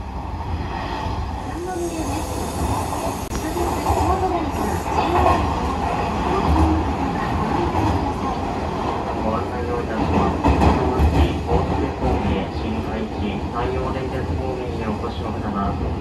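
A Hanshin Railway train runs along an elevated track near a depot, its steady rolling rumble and faint rhythmic wheel clatter sustained throughout at close range, with people talking over it.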